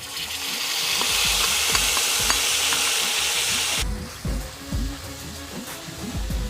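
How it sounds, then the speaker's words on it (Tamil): Ginger garlic paste and ground cinnamon sputter in hot oil for a quail egg curry, a dense continuous sizzle that eases partway through, with a few utensil scrapes and knocks over it and no talk. "இஞ்சி பூண்டு பேஸ்ட்டு சேர்த்துக்கலாம்."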